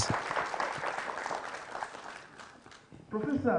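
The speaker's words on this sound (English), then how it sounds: "A round of applause for our head of Moot." An audience at a privacy moot court competition final applauds the head of the moot, a steady wash of clapping that dips near the end before a voice begins speaking.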